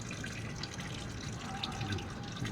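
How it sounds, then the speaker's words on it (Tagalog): Garden plants on a rooftop being watered in hot weather, a steady close spray and splash of water running continuously for a couple of seconds without talk. "At tayo'y magdidilig kasi sobrang init kasi ng panahon."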